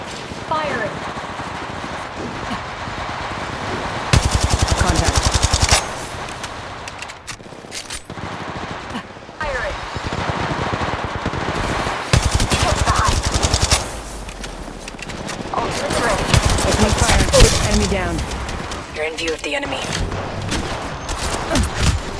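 Gunfire in the mobile video game Apex Legends, with loud bursts of automatic weapon fire and single shots repeated across a long stretch while a voice talks over the action.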